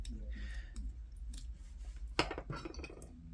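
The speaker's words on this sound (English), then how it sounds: "That will engage this gear here, so when the spool turns it makes that clicking noise." Clicker lever on a vintage Ocean City Nile baitcaster fishing reel, giving close, small metallic clicks and taps over a low background rumble.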